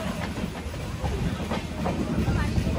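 The Tamralipta Express, a 2S chair car service, pulls away from Ramnagar station with a steady low rumble and faint rhythmic wheel clatter building gradually, while a voice speaks over it.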